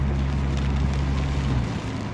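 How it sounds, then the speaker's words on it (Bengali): Steady rain falling in Al Ain, United Arab Emirates, a dense broadband hiss over a low rumbling hum, continuous and fairly loud throughout. "এবার বৃষ্টি হইতেছে"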